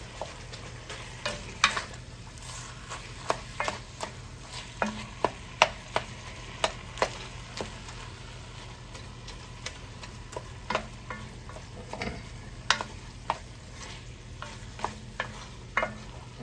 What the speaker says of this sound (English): Let this meat get all browned up here.